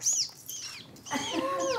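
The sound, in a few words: voice actor imitating a mother seagull call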